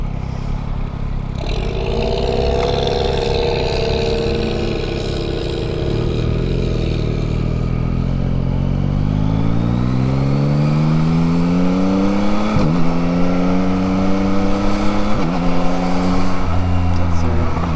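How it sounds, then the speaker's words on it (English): A 2023 Yamaha MT-09 motorcycle accelerates hard, its engine pitch rising in repeated sweeps broken by quick, clean upshifts from a quick shifter, loud and close from the rider's position, with a faint steady whir of wind underneath. "Quick shifts with the quick shifter, not even under hard acceleration, it's still very, very smooth."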